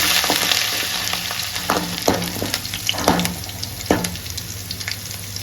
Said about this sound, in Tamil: கறிவேப்பிலையும் சேர்த்துக்கலாம் நல்லா சேர்த்து நல்லா வதக்கலாங்க